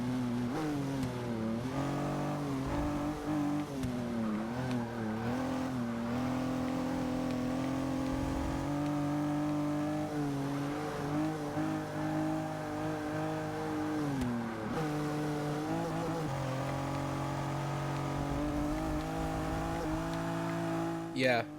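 A Pontiac Aztec in Forza 6 revs and shifts through a slippery cornering run, its engine note rising and falling continuously with faint tire noise, loud and close, while someone talks over it.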